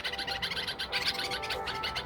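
A bird calls repeatedly beside its nest where a chick has hatched, with busy, continuous chirping and tweeting that fills the clip at moderate volume, no voices present.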